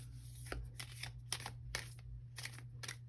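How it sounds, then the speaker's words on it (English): Tarot cards being shuffled by hand, giving a series of crisp riffling bursts at an irregular rhythm over a steady low hum, close and fairly quiet. "We're going to shuffle with intention."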